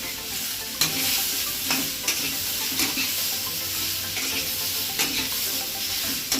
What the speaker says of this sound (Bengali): এটার মধ্যে আমি এখন দিয়ে দেবো একটা টমেটো কুচি দিয়ে এবার আমি এটা ভাজবো একটু বেশ কিছুক্ষণ